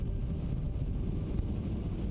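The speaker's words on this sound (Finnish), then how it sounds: "Navakka vastatuuli muistutti meitä parin päivän päästä lähestyvästä myrskystä." Strong, gusty headwind while skiing in the Sarek mountains, a steady low roar of wind buffeting the microphone throughout, loud and unbroken with no voices.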